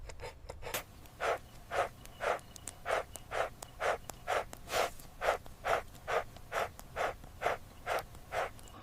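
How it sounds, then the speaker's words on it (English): Honey badger curled in its burrow breathing slowly, about a dozen soft, evenly spaced breaths close up, each a brief airy huff over quiet background. "The honey badger is in its burrow, curled tight, breathing slowly."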